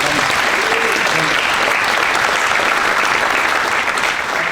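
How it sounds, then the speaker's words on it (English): A crowd applauds at the opening and dedication of an employee-owned technology company's new headquarters. Thick, continuous clapping from many people fills the space loudly and evenly from start to finish, with faint voices mixed in. "So let's give a round of applause for that."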